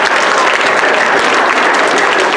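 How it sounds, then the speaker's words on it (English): Dense, loud audience clapping fills the hall at a 2021 LGMS 8th grade winter orchestra concert, steady and continuous with no gaps. "so let's give him a round of applause."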